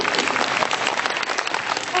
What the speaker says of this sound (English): That deserves a clap, guys.